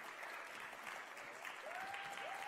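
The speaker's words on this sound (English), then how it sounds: "Take your applause." Audience applause at a live-streamed music performance, a short burst of steady clapping from a crowd, fairly faint and distant, with a thin whistle-like tone rising briefly over it.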